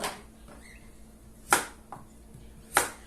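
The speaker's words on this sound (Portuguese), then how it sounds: "E aí eu vou picando ela em cubinhos, assim, ó." Knife chopping a vegetable into small cubes on a board in a home kitchen, two sharp distinct cuts standing out over a low, steady room background, close and alone.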